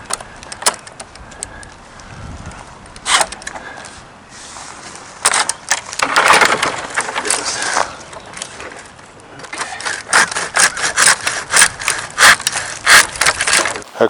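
A handheld pole saw cuts through a tree limb outdoors with rough, scratchy rasping strokes, pushed and pulled in an uneven rhythm, loud and close over rustling branches.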